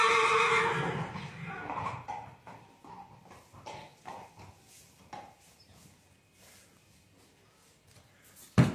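A horse gives a loud, close whinny at the start that trails off, followed by fainter snorts and movement sounds, with a sudden sharp noise at the very end.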